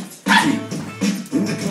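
Three loud, close dog barks in quick succession, each a sharp burst with brief gaps between them.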